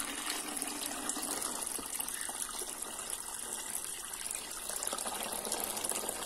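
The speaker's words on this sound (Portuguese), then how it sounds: "Você vai colocar água numa altura que você sabe que já cobriu a sua bombinha" Water pours into a homemade orchid humidity fountain built around a small pump, a close, steady gushing stream that runs for about six seconds without talk.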